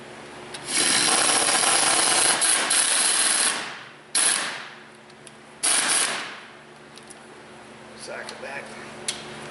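A ratchet tightens the drive shaft bolts on the front axle of a Ford F150, giving loud, close runs of rapid clicking in several bursts separated by pauses, with faint handling sounds afterward.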